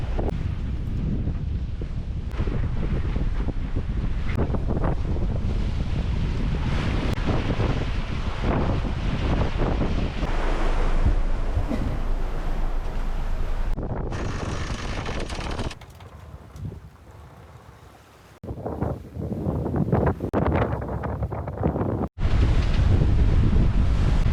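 A sailboat under way at sea on passage toward Grenada, with strong wind buffeting the microphone over steady rushing waves and surf, loud and continuous, briefly dropping quieter before the gusts return.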